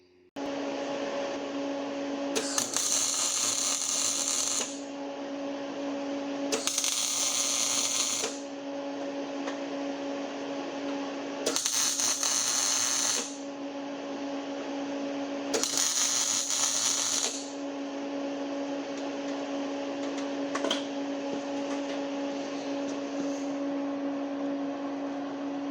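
Four short bursts of MIG tack welding as a shock mount is fixed in place on a Land Cruiser during a rebuild, each crackling buzz lasting a couple of seconds over a steady machine hum in a workshop.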